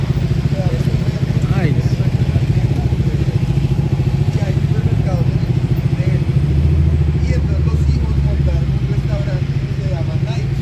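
Ducati motorcycle engine on a New York street, a loud rapid pulsing idle close by that swells briefly, with a short spoken exclamation over it.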